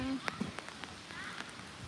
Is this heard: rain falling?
yes